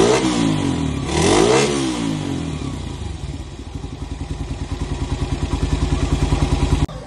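Suzuki Raider 125 motorcycle engine revved sharply up and back down, then dropping to a steady, chugging idle with a regular pulse, close and fairly loud.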